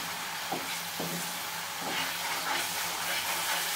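Mango halwa cooking in ghee in a pan, a soft continuous sizzle with a few scraping stirs of a spoon, close and fairly quiet, no talking.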